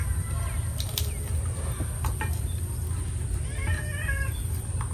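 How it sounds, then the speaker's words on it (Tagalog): A cat meows a few times outdoors in a rural Philippine mango grove, faint against a constant low rumble and hiss of background noise. "Ah! Yung pusa."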